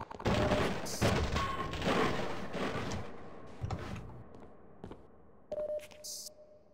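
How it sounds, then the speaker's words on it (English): Rapid machine gun fire from an invisible enemy in the horror shooter game They Hunger, a loud sustained burst at the start that thins into scattered shots and thuds with no one talking. "He was like machine gunning you."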